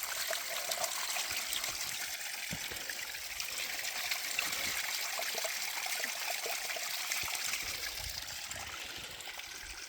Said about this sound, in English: I am still opting for the flowing water that's behind the Bothy